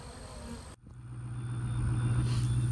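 A low, steady drone of bees swarming around a box rises after a brief cut and grows louder and closer, with a faint high whine above it.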